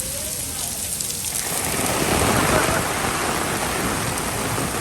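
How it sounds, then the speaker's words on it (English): Heavy rain pours down steadily, a dense hiss of drops that swells louder midway, with a faint voice early on. "it's 11 o'clock in the morning and we're having a mother of a storm"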